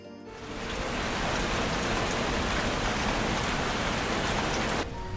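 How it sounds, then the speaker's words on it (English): Steady heavy rain hisses and patters on a surface, a dense, even wash of noise that starts abruptly and cuts off near the end. "it started to rain."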